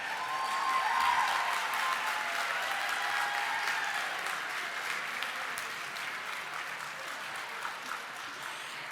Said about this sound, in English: please join me in one last round of applause for our honorees